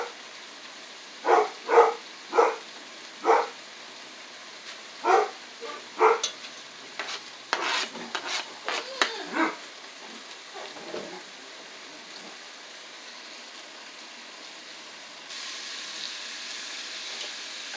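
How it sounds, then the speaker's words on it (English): A pet dog barks in a home kitchen where goulash is being cooked, with about six loud separate barks first, then a looser cluster of softer yaps. A faint hiss sits underneath, and no one speaks. "My dog is loud."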